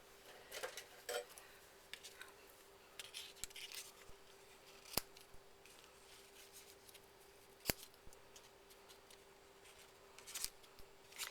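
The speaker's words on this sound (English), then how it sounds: "I'm trimming these pretty close so they just are a little decorative add" Scissors trim close around the edge of paper for a card, with light snipping cuts heard as scattered sharp clicks and soft rustles, close and quiet, with no talking.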